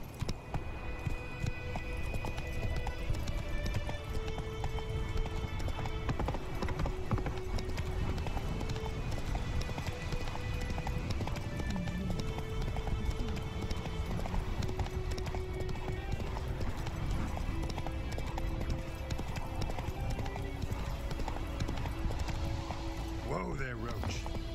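Roach, a horse in The Witcher 3 video game, gallops with steady rapid clip-clop hoofbeats throughout, loud and close, with occasional whinnies and a voice speaking over the action.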